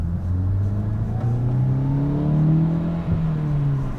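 A Volkswagen MK8 GTI on its stock air intake accelerates steadily, its engine drone rising smoothly in pitch with a soft whooshing induction note layered on top, close and continuous without any talk.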